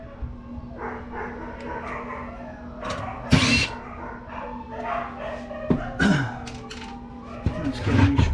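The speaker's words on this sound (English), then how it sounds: "the dogs sound like they're going crazy" Dogs bark upstairs in a house, several sharp repeated barks at a distance over a low steady hum while a desktop PC is taken apart nearby.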